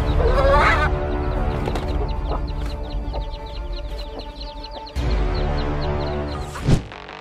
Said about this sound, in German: Dieses Huhn verteidigt seine Küken so heftig gegen einen Raubvogel